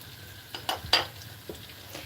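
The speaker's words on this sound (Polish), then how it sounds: "Patrzcie, jak tutaj się smażą te moje faworki." Faworki, the thin angel-wing pastries, fry in hot oil with a soft, steady sizzle beneath a few sharp clinks and scrapes of a utensil against the pan.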